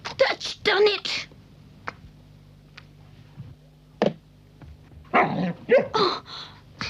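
A cartoon puppy yips and barks in short, lively bursts, loud and close, with quieter pauses and faint background music between the outbursts.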